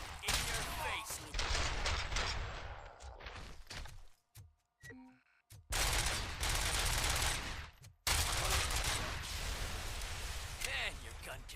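Loud automatic gunfire roars in long sustained bursts close up, broken by a couple of short pauses, with voices talking in between and underneath.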